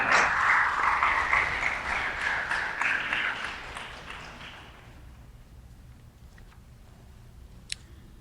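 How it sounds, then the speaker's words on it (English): Applause at a Big Brothers Big Sisters mentor-day celebration, a moderately loud patter of many hands that gradually fades out over several seconds into a quiet room, with a faint click near the end. "Give them a round of applause as they come."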